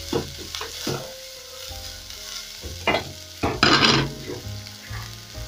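Cabbage dropped into hot oil with onions and stirred, giving bursts of crackling sizzle and several clanking stirs of a utensil against the pan, close and fairly loud.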